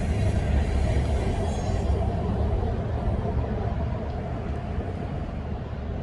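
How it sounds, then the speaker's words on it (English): A passing train makes a continuous, heavy rumble nearby, loud at first and easing slightly as it rolls on, with no voices over it. "Here comes the train."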